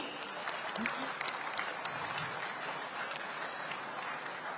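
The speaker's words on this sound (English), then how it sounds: "A big round of applause for all the Nari Shakti." An audience at a diaspora plenary session breaks into a big round of applause for women leaders, a steady wash of many hands clapping in a hall, moderately faint and continuous throughout.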